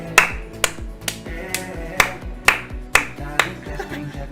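Sharp hand claps ring out in a steady rhythm, about nine evenly spaced claps over a low musical backing.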